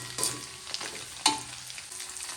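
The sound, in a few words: anchovies frying and sizzling in a pan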